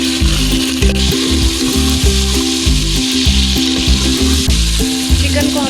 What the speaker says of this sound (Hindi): चिकन शामिल करेंगे। इसको हम फ्राई कर लेंगे।